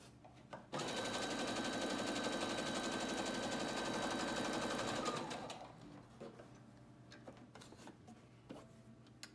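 A sewing machine stitches right across the top of a triple-layer cotton face mask, a close steady motor whir with rapid needle chatter for several seconds, then slowing and stopping, followed by light handling clicks and rustles.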